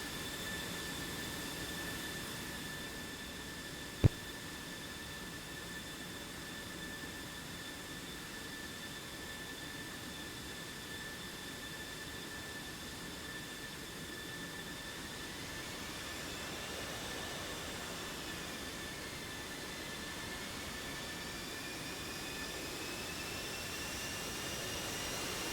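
A jet aircraft taxiing in a flight simulator game, a steady, fairly faint whining engine drone with a constant broadband hiss throughout, plus one brief click partway through.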